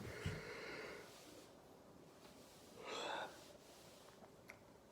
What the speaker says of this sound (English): It was a big yawn from me.